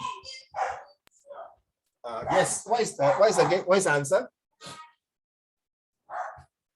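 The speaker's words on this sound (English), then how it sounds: "my dog was barking" A dog barks a few times at home during an online English lesson, short sharp yaps near the start, followed by a person speaking.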